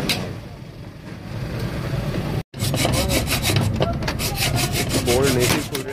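A hand saw cuts through a stuck bolt on a Massey Ferguson 240 tractor, giving close, steady rasping strokes in a repeating rhythm that run loud throughout, with a brief break partway through.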